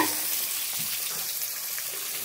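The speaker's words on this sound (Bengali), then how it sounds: "তেল দিয়ে দিয়েছি, আলুটাকে ভেজে নেব" Diced potatoes frying in hot oil in a kadai, a steady close bubbling sizzle with no talk over it.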